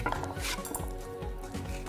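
Nuts drop into a cooking pot while a vegan chłodnik, a cold beet soup, is being prepared, giving a quiet patter of small clattering knocks against the pot over a couple of seconds.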